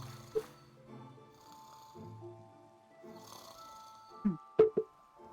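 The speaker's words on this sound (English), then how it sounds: "Every time I hear the snoring, it's making me, like, wonder if there's a zombie." Snoring from a mob in the video game Minecraft plays as a few soft, separate breathy snores. They sit under a person's quiet talk, with a couple of sharper clicks near the end.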